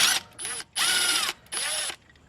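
A hand ratchet loosens the 12mm bolt on a front strut bracket of a Hyundai Sonata or Kia Optima, in three bursts of fast clicking separated by short pauses, loud and close.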